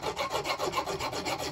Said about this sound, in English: It's starting to take material off the nut now, so it must be there.